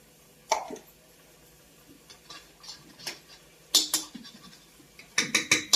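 A spoon scraping and tapping against a kadai pan while cream is added to kadai paneer, a series of short sharp metallic clinks and scrapes, sparse at first and then bunched together.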